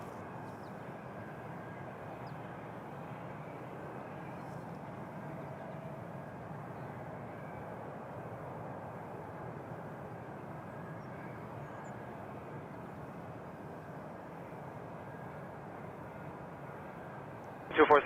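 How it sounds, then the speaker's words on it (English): A KLM Boeing 777 airliner at Toronto Pearson airport produces a steady, distant engine drone lasting throughout, with a brief louder burst at the very end. "Here comes the KLM 777, a plane I'm excited to see."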